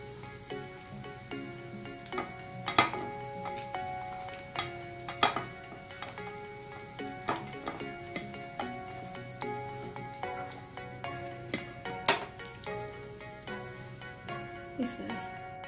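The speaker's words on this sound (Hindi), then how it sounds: "इस तरह से बचे हुए कबाब को भी हम इस तरह से फ्राई कर लेंगे।" Galauti kebabs sizzle steadily in a pan. Repeated clinks and scrapes of a utensil against the pan break through the frying at an irregular pace.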